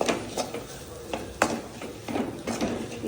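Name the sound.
stirring turmeric into mutton gravy in a pan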